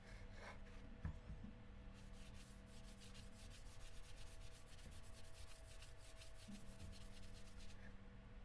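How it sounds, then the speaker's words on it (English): A cotton pad rubs graphite powder over the painted surface of a prop sword, a steady soft brushing rasp of quick back-and-forth strokes that carries on for several seconds, faint and close, with no voices. "just take the cotton pad, dip it into the graphite powder, and then just rub it over the paint"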